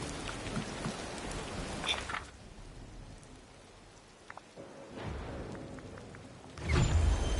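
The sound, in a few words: rain falling in video game Disney Dreamlight Valley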